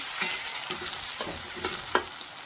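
Onion and tomato frying on low gas for a spicy sesame chutney, a soft continuous sizzle with several sharp spoon scrapes against the pan, close and without talk.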